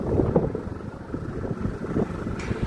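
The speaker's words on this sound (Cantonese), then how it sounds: "今日好大風喎" Strong outdoor wind buffets the microphone, producing a continuous low blustery rumble with uneven gusts at moderate loudness.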